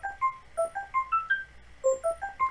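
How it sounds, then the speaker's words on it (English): A melodic electronic phone ringtone plays in the video game Doki Doki Blue Skies, a quick sequence of bright tonal beeps repeating its pattern, clear and alone. "the sound of my phone ringing shatters the calm of the air"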